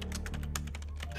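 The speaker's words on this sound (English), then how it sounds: "Oh, I love typing. This is how a human uses a computer." Computer keyboard typing in the Stray Souls video game: a quick run of crisp, close key clicks in an uneven rhythm, clear over a low steady hum.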